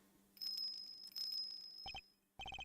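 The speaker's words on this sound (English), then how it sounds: "What's that tinkling sound?" A small bell on a dog's collar tinkles in a video game, with a bright, sustained ring followed by quick clusters of sharp metallic jingles. It is fairly faint and heard alone.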